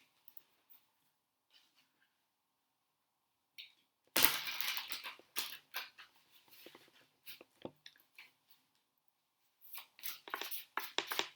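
Tarot cards handled and shuffled, quiet at first, then a burst of dense papery riffling and crisp card slaps with short pauses, resuming near the end.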